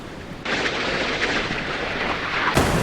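Naval gunfire from a Chinese Type 055 destroyer in the naval combat game Sea Power, a loud sustained roar of firing that swells in after a quiet start and flares again with a fresh burst near the end.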